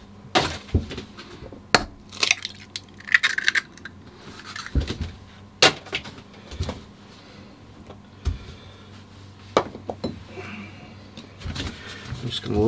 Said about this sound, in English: So now I'm just going to crack my 2 eggs